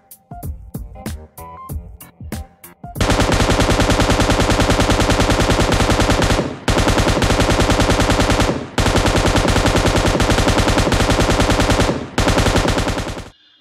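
An M249 light machine gun in the PUBG Mobile game fires, starting with a few spaced single shots, then loud continuous automatic bursts with brief pauses between them.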